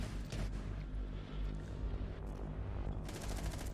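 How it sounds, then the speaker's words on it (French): Gunfire rattles through a competitive Rainbow Six Siege esports match, with rapid automatic bursts at the start and again near the end over a dense, continuous bed of game noise. "Mute qui sera au contact de cette Nomade et qui tombera sous les balles"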